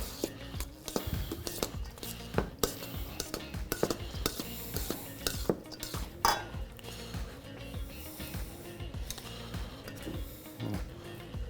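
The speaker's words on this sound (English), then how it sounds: "Mix everything together." Quinoa, red onion, red pepper and curly parsley are tossed together in a bowl, giving soft repeated clinks and scrapes of a utensil, close but quiet, in an uneven rhythm.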